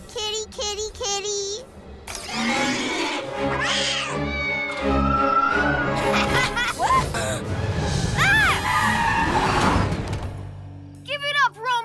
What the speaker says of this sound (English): Oh, another kitty to scare.